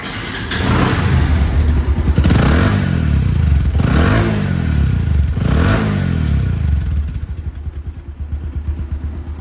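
A 2023 Bajaj Avenger ABS motorcycle engine runs close by, revved in three or four rising and falling throttle blips over a loud idling rumble, then settling back to a steady idle.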